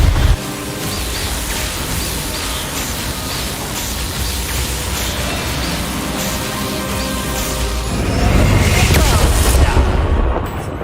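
Bombarda and Confringo explosion spells in the video game Hogwarts Legacy, a dense roaring wash of blasts and rumble that swells louder toward the end before cutting off, with no clear speech.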